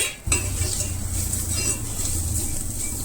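Curry being stirred in a pan after chilli powder goes in, a steady scraping and sizzling texture with faint clinks of utensil on metal, continuous and close over a low kitchen hum.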